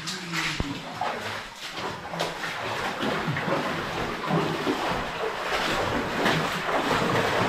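Water pours through a bowing stone arch in an old 1800s lead mine in the Northern Pennines, a steady broadband rushing and splashing that fills the space, with a single sharp knock near the start.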